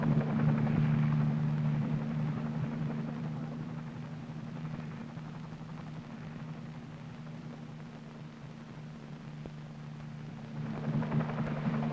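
H-34 helicopters at an Army pathfinder landing zone, a steady loud rotor and engine drone with a strong low hum, continuous throughout and swelling slightly near the end, no voices.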